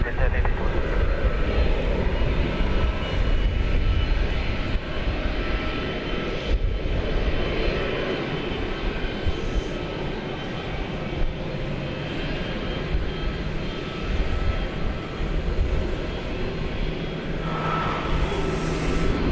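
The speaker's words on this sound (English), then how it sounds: "It's an Airbus A306, or A300, sorry. This one's going to Louisville." An Airbus A300 jet airliner bound for Louisville at DFW Airport rumbles with a loud, steady engine roar throughout, with some talk partly beneath it.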